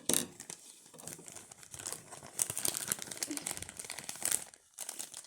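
A package being opened, close plastic wrapping crinkling and rustling in irregular bursts, louder toward the middle, with brief tearing sounds and no talking.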